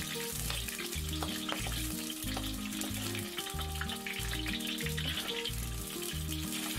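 Ginger and scallion frying in hot olive oil in a wok give a steady, continuous sizzle with stirring. A rhythmic musical backing plays underneath throughout.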